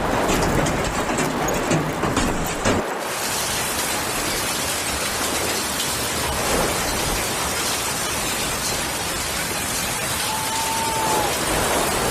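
A hailstorm in Spain: a loud, dense, continuous roar of hail or heavy precipitation pounding surfaces, with a brief change in texture early on and steady intensity throughout.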